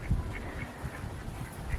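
Ducks quacking in short repeated bursts around a homemade bucket waterer at a backyard coop, a few calls close to the microphone over a steady murmur of background noise.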